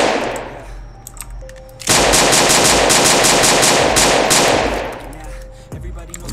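Rapid automatic gunfire from a Roblox shooting game's gun system, a loud sustained burst of dense shots lasting several seconds, preceded and followed by quieter game noise and a few isolated clicks.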